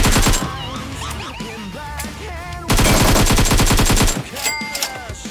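Automatic gunfire in PUBG Mobile, loud rapid bursts of rattling shots in two long volleys with a short pause between, near and harsh, with a little voice underneath.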